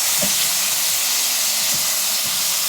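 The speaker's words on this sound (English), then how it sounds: "now we have this, the dry fish being fried." Dry fish (sookha machi) fries in a pan for a chutney or curry, making a steady loud hiss and sizzle throughout with a few faint low knocks underneath.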